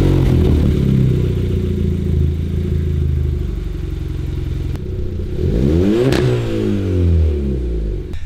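A 1.4-liter car engine turns over and catches, then idles with a low, grumbly rumble and a rising rev that settles back down.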